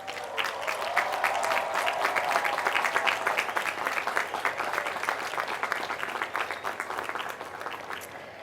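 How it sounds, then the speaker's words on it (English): A commencement audience of graduates claps for their guests at a university College of Business ceremony, a broad round of many hands that swells, holds steady, then thins slightly toward the end. "Graduates, please look back at all of your guests and give them a well-deserved round of applause."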